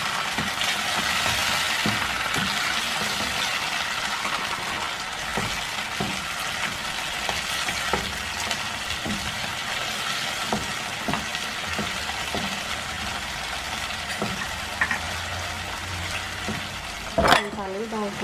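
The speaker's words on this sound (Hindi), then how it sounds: "अब हम इसमें अदरक लहसुन डाल देंगे, 1-2 मिनट भून लेंगे" Ginger and garlic frying in a pot while they are stirred, a continuous close sizzle with scraping stir sounds and a brief clatter near the end.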